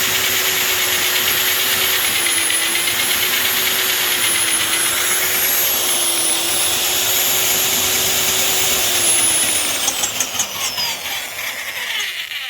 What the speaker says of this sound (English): I can put this drill on it and it will turn it with a lot of torque